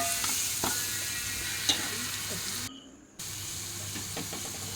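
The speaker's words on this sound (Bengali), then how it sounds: "এগুলোকে আমি খুব ভালো করে ভেজে নিয়েছি।" Spices, including turmeric, chilli flakes, Maggi masala, chaat masala, oregano, coriander and cumin powder, frying in a pan for Maggi cheese masala: a continuous hiss and sizzle with occasional stirring clicks, cutting out briefly midway before resuming.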